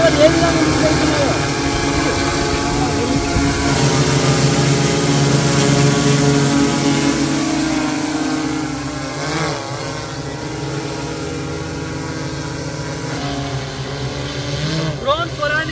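An agricultural spraying drone flies over a field, its propellers giving a continuous droning buzz that rises and falls slightly, with a voice heard over it.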